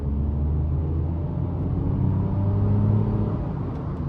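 A car accelerates in traffic with a low, steady engine rumble that swells a little in the middle and then eases off, heard from inside with no talk.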